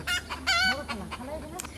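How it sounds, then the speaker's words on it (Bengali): Chickens cluck and call close by in a short, busy burst, with a rooster-like crow mixed in among the sharp, repeated notes. "মুরগিগুলি কি সুন্দর ডাকতেছে"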